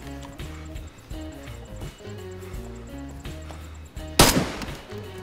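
A single sharp gunshot in the video game DayZ, fired at a cow lying in the road, cracks out loudly near the end over a steady game music bed.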